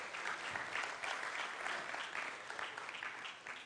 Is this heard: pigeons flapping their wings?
no